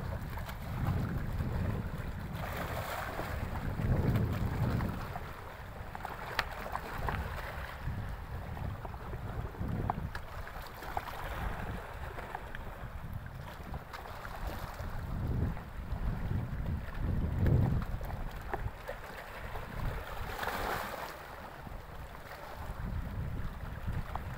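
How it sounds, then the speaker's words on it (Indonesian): Wind at sea aboard a small boat, a steady broad rushing roar with low gusty buffeting on the microphone throughout, fairly faint and continuous with no talk. "Dan anginnya ini lumayan"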